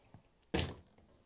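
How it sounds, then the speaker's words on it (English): A GE dishwasher door shuts with a single dull thunk, a short, solid knock heard close by in a quiet kitchen. "we can close the door."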